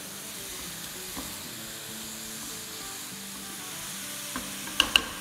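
Seviyan vermicelli is tossed and stirred in a hot pan: a low, even sizzle with soft shuffling and two sharp clinks near the end, close and fairly quiet.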